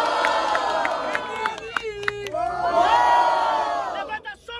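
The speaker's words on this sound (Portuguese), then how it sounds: "Barulhos, barulhos pra quem gostou das rimas da Maria!" Loud crowd at an outdoor street rap battle in a public square cheers and yells in a dense, continuous roar, with a host's voice shouting over it in bursts.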